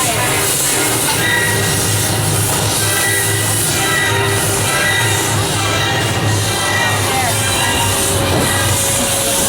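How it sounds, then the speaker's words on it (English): A tour tram at Universal Studios rumbles forward steadily with a continuous mechanical hum and clatter, close and fairly loud, no talking. "I'm gonna have Barry pull the tram here a little bit forward."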